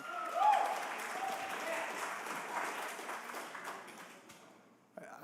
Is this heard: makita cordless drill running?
no